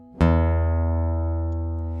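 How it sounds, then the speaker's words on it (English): A guitar's low E sixth string plucked once, ringing out as a single loud, sustained open note that decays slowly. "Here's my 6th string, which is going to be an E."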